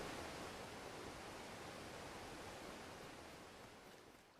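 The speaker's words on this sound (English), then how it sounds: "That waterfall's probably too loud." A waterfall in a game under development roars as a steady, broad rush of falling water, loud and continuous, fading slightly toward the end.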